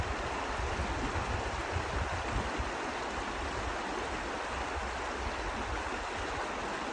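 River water rushing steadily at Farley Lake, a broad, even wash of flowing current that holds at moderate level throughout, with no talking.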